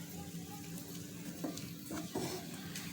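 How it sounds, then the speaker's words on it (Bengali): A spatula stirs a potato, egg and carrot mixture in a frying pan, giving a steady sizzle with a few scraping strokes near the end, close and continuous. "এখন এগুলিকে ভালোভাবে নেড়ে চেড়ে দিতে হবে।"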